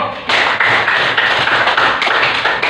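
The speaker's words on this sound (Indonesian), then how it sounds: "Oke, tepuk tangan dulu." Classroom of students applauding together, a dense loud burst of many overlapping hand claps that starts abruptly and continues steadily, close by and without speech.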